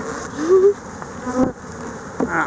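Honey bees buzz close by during hive handling, a steady drone with a few louder passes rising and fading, no voices.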